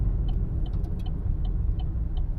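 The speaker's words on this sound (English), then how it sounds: "I just ran over some dirt. I love that noise too." Car tires roll over dirt, giving a steady low rumble with faint light crackles and ticks scattered through it.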